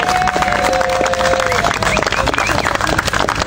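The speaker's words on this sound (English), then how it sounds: "big round of applause" Crowd at an outdoor war parade claps steadily and briskly, with dense, crackling applause running through the whole stretch and a few voices mixed in.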